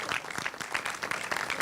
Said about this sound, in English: if you can hear the applause